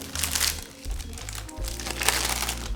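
Plastic packaging of a keyboard cover crinkles and crunches in close, continuous handling for under three seconds, with brief louder crackles throughout.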